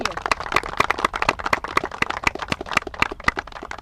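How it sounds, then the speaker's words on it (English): Audience applause, a steady patter of many hands clapping at moderate volume for a few seconds, with a voice speaking faintly in the background. "They're humble, they don't like all those applause, but we're giving it to them."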